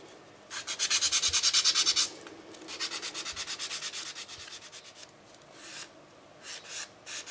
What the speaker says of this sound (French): il faut aussi que je lime les bords pour que ce soit plus propre